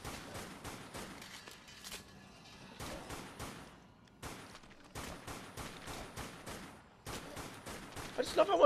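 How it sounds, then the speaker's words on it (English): Rapid bursts of video game gunfire crackle in repeated volleys with short gaps, loud and close, ending in a louder burst. "I think my gunfire isn't helpful"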